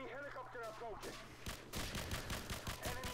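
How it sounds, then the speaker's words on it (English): In Call of Duty 4, on the Pipeline map in Domination mode, a short stretch of talk gives way to rapid, close bursts of gunfire that crack out in quick succession until the end. "this is awful shooting, but I do get the kill with the last bullet"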